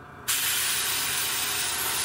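An airbrush sprays green paint onto a miniature model, a sudden steady close hiss that starts abruptly and holds evenly to the end, with no talking.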